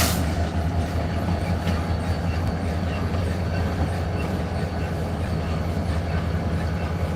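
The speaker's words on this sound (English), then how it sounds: "And you hear that squeak coming from" A remote control switcher locomotive reversing into a rail yard, with steady rolling train noise and faint wheel squeal throughout, heard from trackside at moderate distance.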